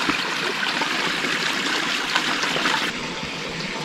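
Water from a gold mine runs into a stream with a steady, fairly loud rushing and trickling, close by, with no voices.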